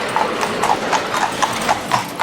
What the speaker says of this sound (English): And this is horse here that's supposed to be a commercial horse, you know.